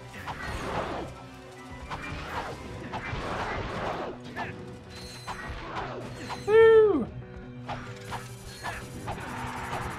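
Wrench melee hits in Ratchet and Clank: Going Commando, with repeated metallic whacks and clanking impacts over game effects, a rising whistle-like zap partway through, and talk underneath.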